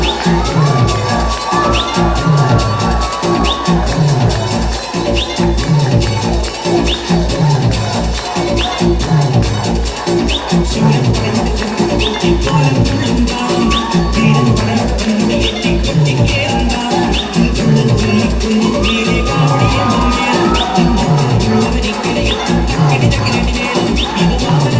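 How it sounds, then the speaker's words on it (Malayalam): Guests at an engagement celebration clap and cheer as the couple walks onto the stage. The loud, dense applause carries on steadily, with crowd voices underneath. "നല്ലൊരു കൈയടി കൊടുത്തുകൊണ്ട് തന്നെ അങ്കിളിനെ ആൻറ്റിയും നമ്മൾ ഈ വേദിയിലേക്ക് സ്വാഗതം ചെയ്യാണ്."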